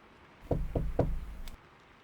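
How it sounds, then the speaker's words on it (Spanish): Three evenly spaced knocks land on the door of a morgue cold room, firm and close, followed by a brief high click, against a quiet background. "esos 3 golpes nuevamente en la puerta"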